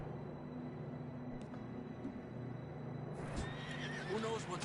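Horse hooves clop along at low volume in the video game Red Dead Redemption 2, then a horse gives a shrill whinny near the end, with faint talk in the background.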